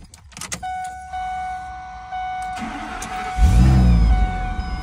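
A 2012 Ford F650 water truck's engine cranks with a whining starter and then catches, settling into a loud, steady idle rumble close by; no talking.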